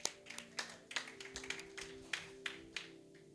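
A church congregation claps in a loose, uneven rhythm of a dozen or so sharp hand claps, moderately close, over a faint sustained tone.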